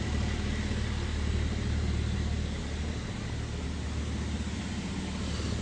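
Diesel racing truck engines rumble in the paddock at a Pembrey circuit race meeting, a dense, continuous roar with heavy low-end drone, steady and loud throughout with no pauses.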